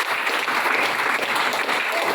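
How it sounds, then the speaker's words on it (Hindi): Steady applause from a crowd, dense and continuous clapping with no pauses for a couple of seconds. "इनके लिए भी जोरदार तालियां"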